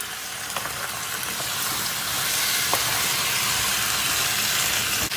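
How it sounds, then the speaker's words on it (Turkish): Half a tea glass of cold water poured into a hot pot of potato köfte with tomato paste, bursting into a loud, steady hiss of sizzle and steam that swells and holds, close up. "Yarım çay bardağı bir soğuk su ilave ediyoruz."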